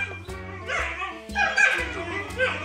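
A dog barks in a series of yips and whimpers, close and fairly loud, with the sounds overlapping music playing in the background.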